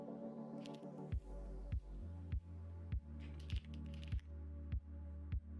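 Keys on a Zoom98 mechanical keyboard are pressed one at a time in a slow, even rhythm, each giving a sharp, close click over a low steady hum.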